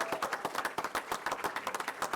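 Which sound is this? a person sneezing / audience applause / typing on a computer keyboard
audience applause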